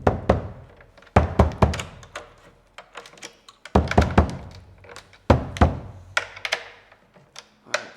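Tapping on the resonant head of a drum to check its tension: a series of dull, close thunks and knocks in irregular bursts with short pauses between, loud and dry with no talking.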